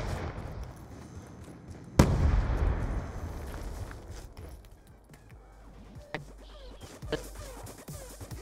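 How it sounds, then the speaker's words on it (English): A frag grenade goes off in Black Ops 2 multiplayer Hardpoint on the Plaza map, one sharp loud blast with a rumbling tail, followed by scattered lighter gunshots and game effects. "Throwing grenade!"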